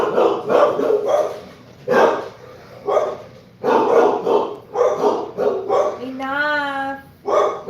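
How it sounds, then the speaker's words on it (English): A dog barks repeatedly at close range in sharp, loud bursts, with a brief whine near the end. "Harley, stop making her bark."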